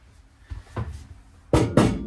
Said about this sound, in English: It's the glass door right there.